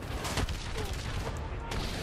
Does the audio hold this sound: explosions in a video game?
yes